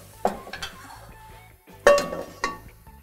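Eggplant rolls turned in a frying pan with tomato sauce, giving a few clinking metal-on-pan knocks and scrapes, two sharper clanks standing out over a low steady hum.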